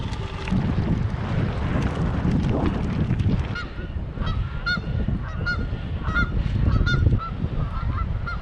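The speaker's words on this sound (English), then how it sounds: "Canadian geese, this must be an assembly point or a landing point or a resting point" Canada geese honk repeatedly in a noisy flock near Waldron, Arkansas, by the Ouachita National Forest, with wind buffeting the microphone throughout.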